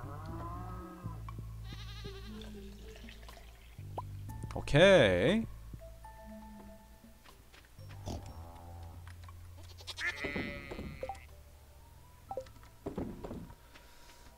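Goats on a farm in Stardew Valley bleat in short, wavering cries, one louder near the middle and others scattered through it, heard over a steady low game hum while a person talks over them.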